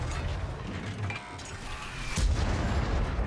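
An artillery salvo in World of Tanks, heard as rumbling booms and mechanical clatter, with a heavier impact thud near the end.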